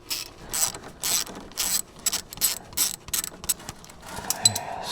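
A socket wrench ratcheting on a ball joint bolt of a 2007-2013 GMC Sierra or Chevrolet Silverado truck, in short bursts of quick clicking strokes separated by brief pauses, close and clear.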